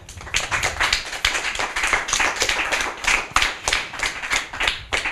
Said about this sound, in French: Alors, on applaudit Solène, hein?